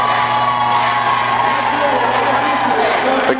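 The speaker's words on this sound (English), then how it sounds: "Okay, crowd has picked up nicely." A crowd in an arena at a high school hockey game cheers and roars in a sustained wash, with a commentator's voice partly audible over the noise.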